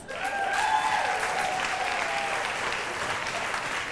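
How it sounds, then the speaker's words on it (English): Applause from a small group at a girls' night out, steady and fairly close, with a few whoops and voices mixed in throughout. "And a round of applause"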